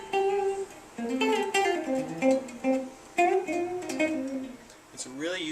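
Guitar playing a lick, a run of bending, sliding single notes in a quick bluesy phrase, close and fairly loud, with no talk over it.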